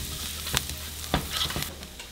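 Three minced garlic cloves sizzling in a hot pan, a steady close frying hiss broken by a few sharp stirring scrapes and clicks.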